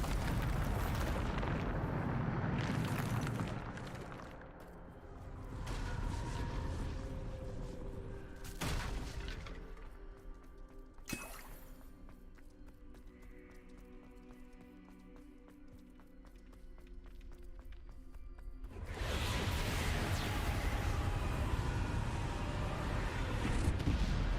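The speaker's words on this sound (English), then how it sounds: "Bombarda!" Bombarda spell blasts in the Hogwarts Legacy video game: loud, rumbling booms fill the start and end, with quieter sharp bursts and crackles between them.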